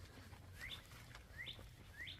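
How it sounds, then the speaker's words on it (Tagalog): Three quick, thin rising chirps from a bird, evenly spaced and fairly faint against a low background hum. "May ibon."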